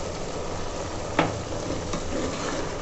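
A spoon stirs a pot of cooked gawar (cluster bean) curry, giving a soft, continuous scraping and bubbling with one sharp clink of the spoon against the pot partway through, close by and without talk.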